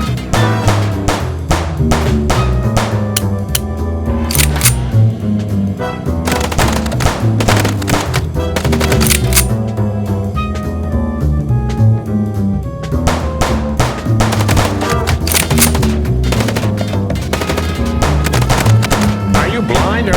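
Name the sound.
gunfire from the video game Chicken Police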